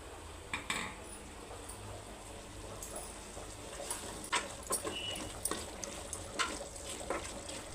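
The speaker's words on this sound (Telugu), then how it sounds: "ఒకసారి మూత తీసుకొని దీన్ని కలుపుకుందామండి" A lid lifted off a pot of frying chicken for Hyderabadi chicken dum biryani, followed by stirring: scattered metallic clinks and scrapes of a utensil against the pot over a low, steady sizzle, close and fairly quiet.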